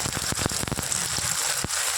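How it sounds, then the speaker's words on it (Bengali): Heavy rain falls in a steady, close wash dotted with sharp patters and drips, heard alone for a couple of seconds. "খুব জোরে বৃষ্টিও হচ্ছে।"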